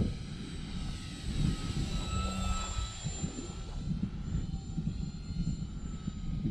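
An electric SIG Four Star 20 RC model airplane flying in to land in steady wind, its propeller motor giving a faint continuous whine and hum over outdoor wind noise.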